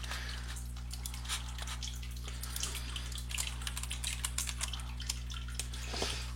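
A small fish tank fountain trickles steadily with faint drips and splashes, a soft continuous wash of water over a low steady hum.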